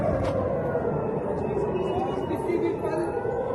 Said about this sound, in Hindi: इस सायरन की आवाज़